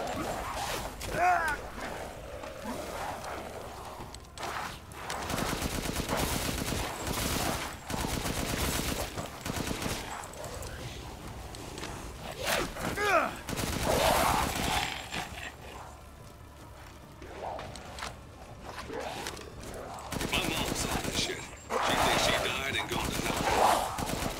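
Gunfire from shooting in the horror game Resident Evil Village, heard as repeated loud bursts of shots scattered through the stretch, with clanking mechanical sounds and game noise in between.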